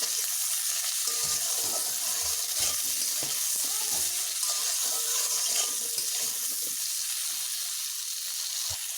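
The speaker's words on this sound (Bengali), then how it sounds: "শিম ও আলুগুলো আমার প্রায় ভাজা হয়ে এসেছে" Bean and potato pieces frying in a pan with turmeric and salt, producing a loud, continuous close-up sizzle and crackle with faint stirring.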